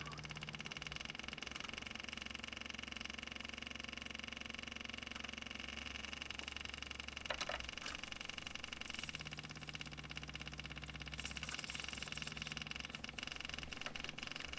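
A Kubota U10-3 mini excavator's small engine idles steadily after starting, giving a continuous low drone at moderate distance with faint mechanical clatter and no real change in level.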